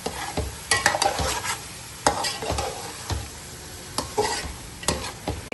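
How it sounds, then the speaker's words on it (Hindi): Chicken and turnip curry with whisked yogurt is stirred and fried in a pot, with a steady sizzle broken by repeated scraping strokes of a spoon at an uneven rhythm, close up and without talk. "अब इसको शामिल करने के बाद हमने इसकी बहुत ही जबरदस्त सी भुनाई"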